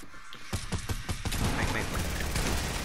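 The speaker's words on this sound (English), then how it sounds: "He shooting me with a shotgun!" A shotgun fires in a shooter game: a quick rhythmic run of sharp blasts, then a dense, sustained roar of gunfire at moderate loudness.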